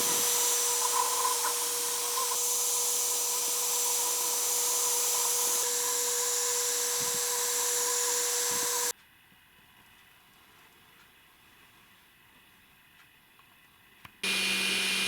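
A small lathe or machine tool cuts a nipple nut for a 3D-printed twin-cylinder air engine, giving a steady loud whirring hum with a constant tone that stops abruptly partway through, leaving quiet hiss before it restarts.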